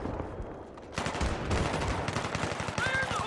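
Dense gunfire in the Battlefield 3 video game, a quieter stretch followed by a loud continuous rattle of rapid automatic shots that runs to the end, with no talk over it.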